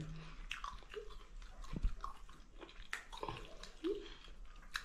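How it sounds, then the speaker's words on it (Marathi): Someone eats bhakri flatbread alongside a dry clam curry, with soft, close chewing and a few crisp bites over a quiet room, with no talking. "मी आता भाकरी खातोय"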